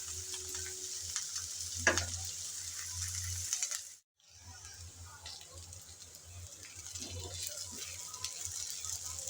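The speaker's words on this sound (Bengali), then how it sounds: "কিছুক্ষণ সময় ধরে নেড়ে চেড়ে পেঁয়াজ আর রসুন ভেজে নিলাম" Onion and garlic sizzle and fry in a pan while being stirred for a bitter gourd dish, a steady crackling hiss with scraping stir strokes, briefly cut off midway before resuming.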